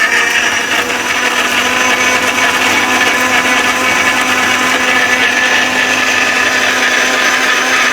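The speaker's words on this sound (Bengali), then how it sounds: "এটা হচ্ছে 1200 ওয়াট ব্লেন্ডার ভাই" An Ajnur 1200 watt blender grinding ginger, a loud, close, unbroken high-speed motor whine with a rough grinding texture, steady from start to finish.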